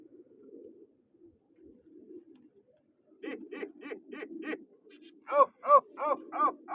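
Pigeons from a Sangat flock competition coo in a run of rhythmic, repeated calls close by, with a softer low murmuring before them.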